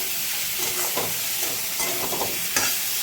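Rice, potatoes and spices are stir-fried with green chillies in a pan, a steady loud sizzle broken by repeated scraping stirs of the spatula, with no talking.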